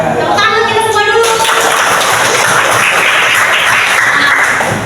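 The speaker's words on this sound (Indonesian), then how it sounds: "Tepuk tangan kita semua dulu" Classroom of students clapping on cue from their teacher, a dense, loud, steady burst of applause that follows a brief stretch of voices and carries on without a break.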